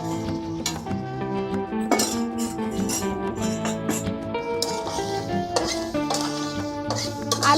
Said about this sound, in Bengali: আলুগুলো আর মশলাটাকে আমি কষছি।